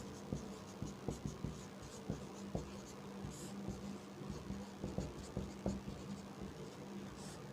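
Chalk tapping and scratching on a board as chemistry examples are written, a quiet series of short, crisp strokes in an uneven rhythm, close by in a still room.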